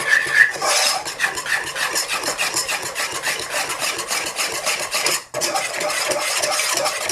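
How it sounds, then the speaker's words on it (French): Chocolate cake batter being stirred by hand in a bowl, a continuous scraping and rubbing of utensil against the bowl with a brief pause near the end, no voices. "Donc vous mélangez bien."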